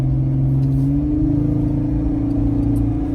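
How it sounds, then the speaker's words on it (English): A Jeep Wrangler JK engine fitted with a Banks air intake revs close and loud, a steady deep drone rising slightly in pitch, heard alone. "You can definitely hear that air intake."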